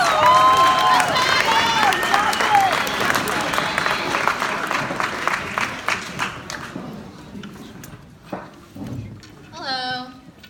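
Audience applause at a talk, loud clapping under overlapping voices and cheers for several seconds, thinning out and fading toward the end as a speaker begins.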